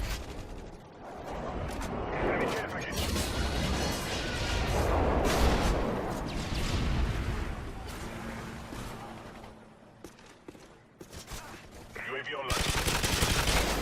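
Gunfire in the video game Call of Duty MW3, dense bursts of rapid automatic shots with booming impacts that rise and fall in loudness, with a voice talking over the action at times.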